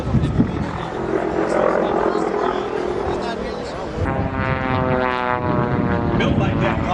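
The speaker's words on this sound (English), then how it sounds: "Now you see Elliott and his skill in this big air show biplane." A large air show biplane flying at the Reno Air Races, its propeller engine roaring steadily and shifting in pitch as it passes, with someone narrating over the noise.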